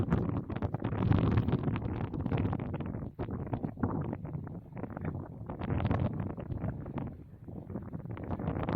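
Strong gusts of wind buffet the microphone in rough, continuous surges, with no voices.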